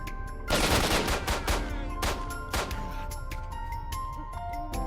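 Rapid bursts of video game gunfire from S.T.A.L.K.E.R. crackle in quick succession, loud and sharp, followed by scattered single shots with faint ringing tones in the background.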